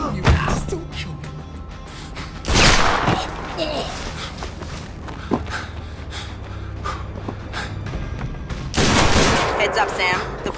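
Gunfire in Splinter Cell: Conviction comes as a few loud volleys of rapid shots, spaced apart, with scattered single cracks and voices in between.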